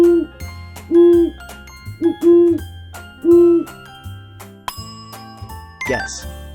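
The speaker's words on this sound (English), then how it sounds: "Owl." Owl hoots from a children's guess-the-animal sound quiz, heard as several clear, tonal two-part calls spaced out over a few seconds, with a brief bright chime near the end.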